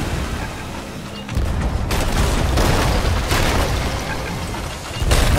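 Ship cannons firing in the Sea of Thieves pirate game, a loud booming blast that becomes a dense, roaring rumble and holds steady, with another heavy boom surging at the very end.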